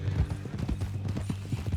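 A horse in the Western game Red Dead Redemption 2 clip-clops steadily, its hooves thudding in a brisk, rhythmic trot up close, with faint ambient noise behind.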